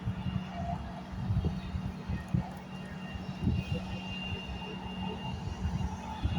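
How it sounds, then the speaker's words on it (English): A Loganair ATR 72-600 turboprop airliner arriving at Edinburgh Airport from Exeter, heard as a steady, fairly loud engine drone with a sustained low hum and broadband roar that holds level throughout, with no speech. "arriving now is this Logan Air ATR 72-600 coming from Exeter"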